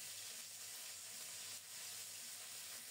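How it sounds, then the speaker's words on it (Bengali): Ground spice paste frying in oil with a bay leaf, cardamom and cinnamon, a steady soft sizzle that stays even and quiet throughout with no voices. "খুব সুন্দর মতো মশলাটাকে ভেজে নেব।"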